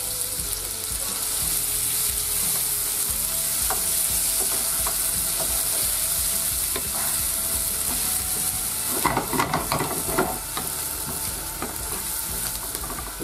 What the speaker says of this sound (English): Add a little bit more butter. In goes the onions.